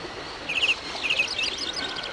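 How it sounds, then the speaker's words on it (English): Birds chirping inside a train station in the video game Syberia, a few short, high, bright tweets in quick clusters over a quiet, steady ambient background. "All these birds in a station."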